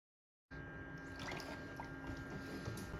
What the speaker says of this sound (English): fill until you see coolant and air bubbles coming out of your upper radiator